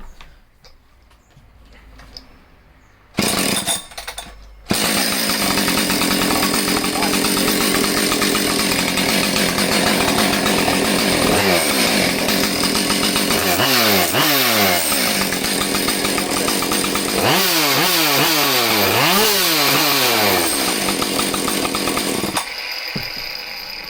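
A Husqvarna 564 XP chainsaw starts for the first time, catching after a couple of pulls and then running loud and close, its engine note rising and falling as the throttle is revved in repeated sweeps.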